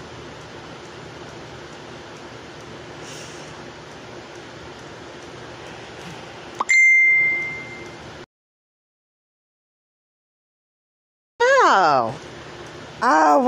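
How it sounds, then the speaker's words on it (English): Phone notification sounds chiming over a steady hiss, first a short bright tone, then after a silent gap a quick warbling run of sweeping electronic tones. "why didn't I turn off my notifications?"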